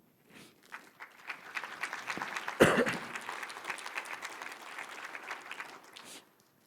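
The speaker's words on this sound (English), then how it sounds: "So I want to give the council members another round of applause." A crowd at a city State of the City address applauds, the clapping building quickly, peaking with a sharp loud burst, then holding steady before tapering off near the end.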